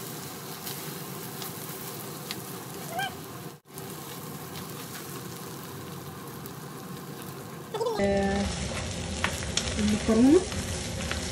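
Rice, vermicelli, lentils and pasta sizzle and crackle steadily as they are sautéed together in one pot for koshari, with a brief pause and stirring scrapes, while a voice speaks briefly over the frying.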